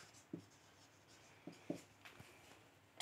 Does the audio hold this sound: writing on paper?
yes